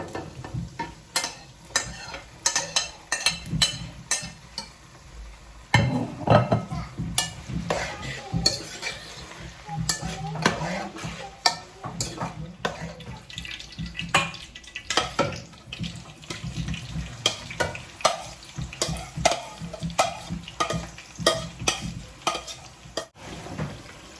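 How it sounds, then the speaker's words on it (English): Chopped tomatoes are stirred into salted fish and onion frying in a pot for a garden egg stew, giving close scraping and clattering stir strokes over a continuous sizzle, with no speech. "So our salted fish and onion is fried nicely, so I'm going to add my chopped tomatoes."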